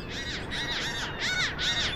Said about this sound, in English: now we're going to go over here to these nice seagulls.